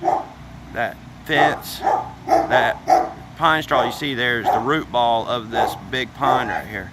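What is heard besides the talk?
dogs barking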